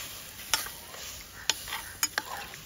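Goat-head mundi meat being stirred in a pressure cooker over a wood-fired chulha, Agri-style dhaba cooking: a few sharp scraping knocks spaced irregularly over a soft background hiss, close and fairly quiet, with no talking.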